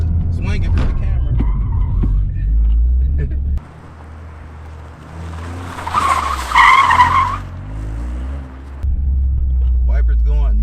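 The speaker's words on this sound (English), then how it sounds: "Man, this thing gets sideways." A Toyota GR Corolla slides sideways with a loud tire squeal over engine rumble, the screech rising in the middle after close engine and cabin noise, with someone talking at the start and end.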